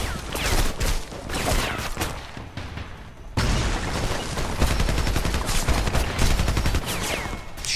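Intense gunfire in the first-person shooter Homefront, with dense rapid automatic bursts and booming shots layered over a constant battle din, briefly dipping before surging back loud and continuous.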